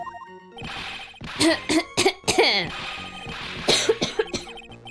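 Coughs from a character in the Phoenix Wright: Trials and Tribulations video game: several short, staged bursts in an irregular sequence, close and fairly loud, with game sound tones between them.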